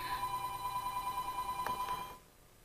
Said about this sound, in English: the house phone is ringing.